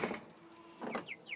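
A pet chicken gives a few soft clucks and chirpy calls near the end, after a quiet start with faint voice-like sound, close and fairly low in level.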